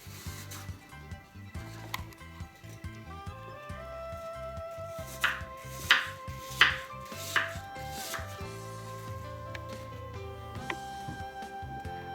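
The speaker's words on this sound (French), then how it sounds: "Je les épluche et puis je les découpe pour continuer la préparation." Peeled apples are chopped into small pieces with a knife on a board for an apple tart, steady close knife taps in a quick rhythm with a few louder strikes in the middle, over faint background music.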